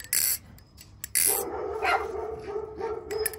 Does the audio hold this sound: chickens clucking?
no